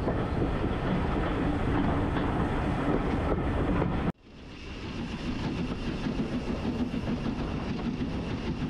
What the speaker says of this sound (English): As the train sedately trundles along the line